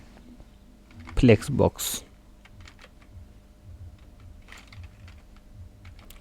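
Someone types a code comment on a computer keyboard in a short burst of loud, close key clicks, followed by sparse, softer taps. A voice speaks briefly over the keystrokes.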